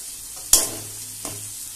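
Sliced onions frying with salt in a kadai get two quick scraping stirs from a spatula, each stroke sharp and close, over a faint steady sizzle.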